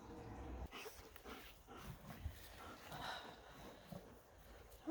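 Dogs whimpering and stirring outdoors, restless anxious whines and faint yelps scattered across a steady background of rustling and outdoor noise, fairly close but not loud.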